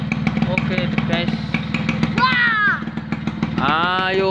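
An old Vespa PTS scooter runs on its original but modified exhaust, a loud, close, throbbing idle with a rapid pulse, while someone talks over it and the engine briefly revs and settles.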